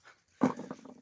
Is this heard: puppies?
yes